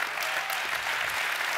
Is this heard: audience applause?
yes